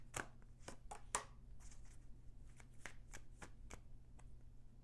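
Tarot cards being shuffled by hand, a run of crisp riffling flicks and soft papery slaps at close range with steady quiet background hum and no talking.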